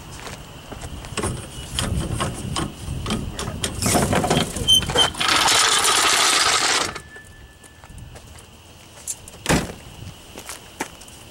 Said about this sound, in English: Now it's time to unjack it.